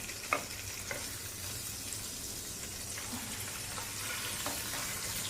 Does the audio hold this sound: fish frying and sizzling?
yes